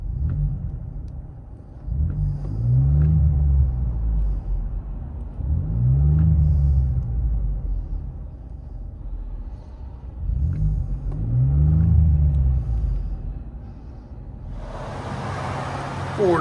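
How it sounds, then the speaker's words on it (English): Inside a 2016 Ford Expedition with the 3.5L EcoBoost V6 and Flowmaster DBX exhaust with resonator, a deep muffled engine rumble rises and falls in several rev swells, moderately loud and steady throughout. "Ford Expedition EcoBoost with FLOWMASTer DBX and resonator."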